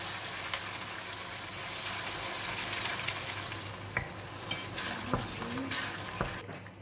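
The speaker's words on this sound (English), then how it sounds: "In the pan, I have about 4 tablespoons of cooking oil, and we're going to put in the curry paste that we blended just now." Blended curry paste frying in about four tablespoons of cooking oil in a pan for pineapple curry, a close, continuous sizzle broken by several clinks and scrapes of a utensil stirring against the pan.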